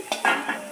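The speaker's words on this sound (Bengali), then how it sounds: "হলুদ দিলাম, দিয়ে আবার কিছুক্ষণ নেড়ে চেড়ে লাল লাল করে ভেজে নেব।" Salt and turmeric fry in a pan as they are stirred, giving two or three quick close scrapes over a soft sizzle in a short burst.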